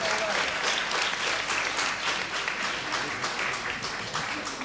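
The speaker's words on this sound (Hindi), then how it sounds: "ताली बजाकर महाराज जी का स्वागत कर दीजिए।" An audience at an evening Harikatha gathering in New Delhi claps to welcome a visiting maharaj, sustained close applause from many hands that tapers slightly toward the end.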